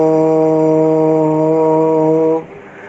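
One voice holds a prolonged chanted Om syllable as a steady, resonant, humming tone close to the listener, sustained for over two seconds before it cuts off abruptly.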